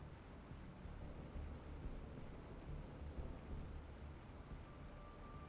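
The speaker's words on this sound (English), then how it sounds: "Oh, it's raining." Rain falling in the Planet Crafter game world, a faint steady wash of rainfall with low rumbling underneath and no speech.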